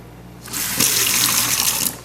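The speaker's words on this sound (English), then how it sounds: "I'm going to go turn on the faucet" A faucet suddenly turns on, and water gushes steadily into a sink for about a second and a half before cutting off.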